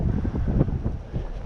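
Strong wind buffets the microphone beside a river, a steady low rumbling roar with gusty swells and no voices.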